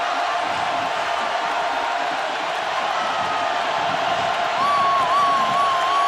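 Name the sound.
stadium crowd noise at college football game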